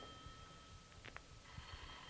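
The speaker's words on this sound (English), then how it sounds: "Again the phone." A telephone rings in a 1952 radio drama, a brief, faint double trill standing out for a moment above a low, steady hiss.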